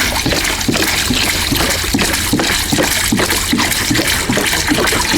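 Evapo-Rust rust remover poured from a nearly full gallon jug over MGA car parts to soak them, a steady close liquid gush with rhythmic glugging pulses running throughout, no talking.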